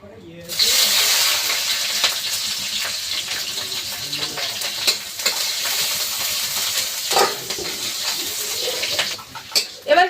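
Onion and green chili dropped into hot oil for a taro and fish curry, a sudden loud hissing sizzle that holds steady and close for several seconds, with a few stirring knocks near the end.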